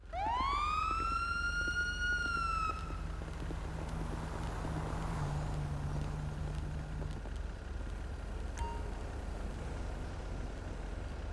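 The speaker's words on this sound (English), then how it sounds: "And I think this might be the siren option thing that they talked about." A police siren in the video game GTA Online winds up in a loud, rising wail for about three seconds and then cuts off, leaving a steady engine-like rumble underneath.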